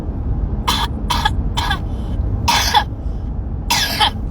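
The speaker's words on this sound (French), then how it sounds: "Là, pourquoi tu tousses?" A child coughs in short bursts, about five separate coughs spaced unevenly, close by over steady background noise with no talking.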